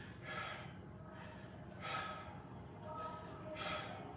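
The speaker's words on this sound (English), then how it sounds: "This is an example of bad breathing." Demonstration of poor chest breathing for public speaking, with shoulders rising: three slow, noisy breaths in and out, each a broad airy rush, close and fairly loud against a steady background.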